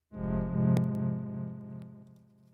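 Echo from FL Studio's Fruity Delay Bank plugin repeats a sustained, buzzy synth tone, with a few sharp transient ticks inside it. The tone trails off into a fading tail, heard alone.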